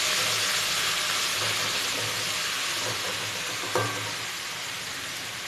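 Ginger garlic paste frying in half a cup of oil in a karahi, a continuous close sizzle with soft stirring clinks, slowly easing in loudness.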